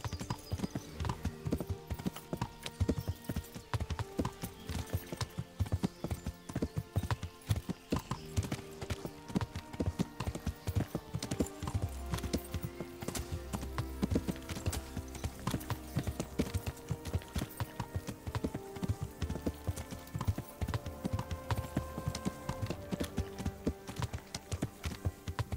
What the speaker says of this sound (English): let's grab my horse